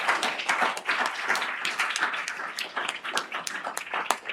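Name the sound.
audience applause for the symposium speakers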